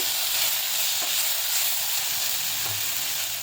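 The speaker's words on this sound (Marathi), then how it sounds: "कांदा परतून झाल्यावर त्यात थोडा टोमॅटो टाकते" Chopped onion and tomato sautéing in hot oil in a pan, a loud, dense, steady sizzling hiss with faint stirring taps underneath.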